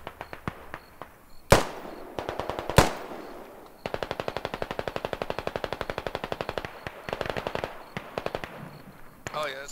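A heavy machine gun in the game Squad fires a long, steady stream of rapid, evenly spaced shots, after a couple of sharp single cracks, loud and close, with voices talking now and then.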